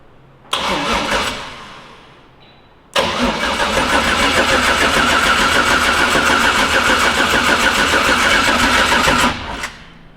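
On a V.2 4x4 shop truck whose freshly built motor has sat for two years, the starter cranks briefly, pauses, then cranks again until the engine catches and settles into a loud, steady, lumpy idle before cutting off.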